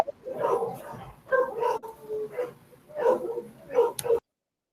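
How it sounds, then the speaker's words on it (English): A pack of dogs barking, yipping and whimpering in several bursts, with an excited, overlapping chorus fairly close and loud before cutting off abruptly. "That's a bunch of dogs"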